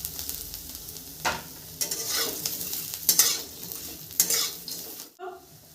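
Fried cauliflower pakoras being stirred in a sizzling pan, with scraping spatula strokes and clinks of utensils over a steady frying hiss, close up and without talk.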